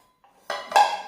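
Metal camping cookware pots from a cooking set are handled up close: two quick clanks in succession, the second louder, each leaving a short bright metallic ring, after near silence.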